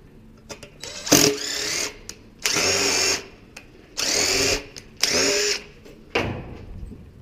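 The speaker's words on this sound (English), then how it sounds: "I just gotta ream the hole out a little bit." Power drill reaming out a pop rivet hole in sheet metal during fabrication of a return drop elbow, heard in four short whining bursts of about a second each, separated by brief pauses and small clicks, close and clear.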